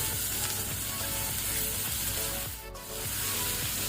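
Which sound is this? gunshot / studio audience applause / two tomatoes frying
two tomatoes frying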